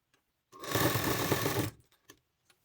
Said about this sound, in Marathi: दुसरी शिलाई अशी डबल पलटी घेऊन दुसरी शिलाई